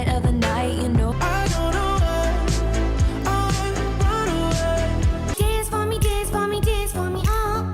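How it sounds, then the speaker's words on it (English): Fuzzy 1980s-style bass from a Minimoog synthesizer, a model introduced in 1970, pulses steadily beneath a dense, full music mix with layered melodic parts. "This particular fuzzy bass synth sound is the Mini Moog synth, introduced in 1970 originally"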